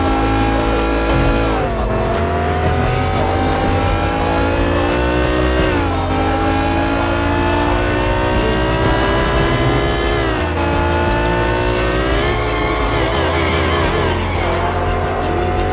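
A car driven hard in the video game Sleeping Dogs, its engine revving loudly and continuously, pitch climbing and dropping sharply as it shifts, with squealing tire tones and no talking.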